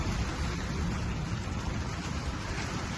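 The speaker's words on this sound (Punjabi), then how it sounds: "ਮੀਂਹ ਸਟਾਰਟ ਹੋ ਗਿਆ ਬਾਈ ਹੋ ਰਹੀ ਆ ਖੜਖੜ ਹਵਾ ਵੀ ਚੱਲ ਪਈ" Rain falls with gusting wind over open farmland with wheat fields, a faint, even wash of hiss that stays steady throughout.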